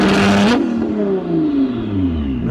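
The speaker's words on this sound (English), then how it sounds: "That is one of the craziest exhaust systems I've heard." A sports car with a very loud aftermarket exhaust revs up and then lets the engine fall back, a close, raspy roar that winds down through a falling pitch with crackle at the end.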